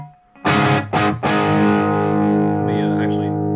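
An electric guitar runs through an inexpensive Amazon effects pedal, giving a distorted, heavily processed tone. A few loud strummed chords ring out and sustain, with a wavering modulated shimmer near the end.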